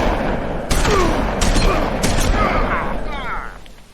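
Shotgun blasts in The Wolf Among Us game, with several booming shots in quick succession under a continuous game soundscape, and a voice speaks briefly near the start.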